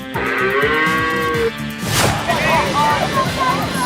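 A loud cow mooing sound effect plays on a TV obstacle game show, a long drawn-out moo followed by a booming crash-like rumble and shorter wavering lowing.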